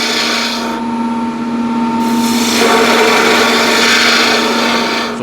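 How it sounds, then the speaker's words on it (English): A wood carving gouge cutting steadily into wood, producing a continuous scraping, rasping sound with a faint steady hum behind it and no talking. "So getting into the wood, now I can open the gouge"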